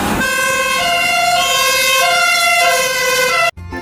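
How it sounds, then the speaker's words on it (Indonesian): A toy fire truck blares its siren, a loud electronic wail with strongly harmonic tones stepping between pitches, sounding close and alone before cutting off abruptly near the end. "Di sini ada mobil damkar."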